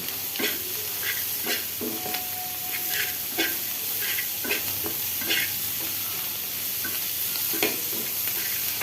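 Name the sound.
green chillies and spices being stir-fried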